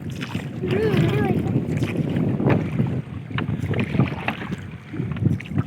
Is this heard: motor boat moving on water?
yes